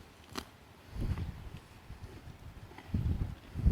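Slow, uneven clopping of horse hooves on the ground nearby in Puerto Rico, a few soft thuds at a time, over light wind and quiet rustling.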